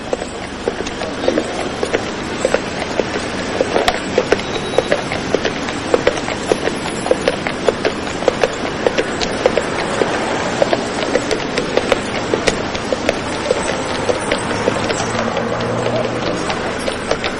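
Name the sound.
horses' hooves clip-clopping while pulling beer carts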